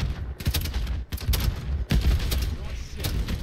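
Sustained automatic gunfire fills a Call of Duty Modern Warfare III campaign battle, with dense bursts and sharp cracks repeating loudly over a few seconds and rumbling booms beneath.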